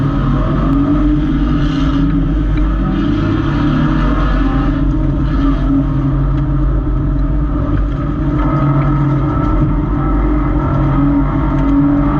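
Race cars, Nissan Altimas, roar through the first lap of the Freedom Factory Altima 600, a loud continuous engine drone heard from inside the car with no talking.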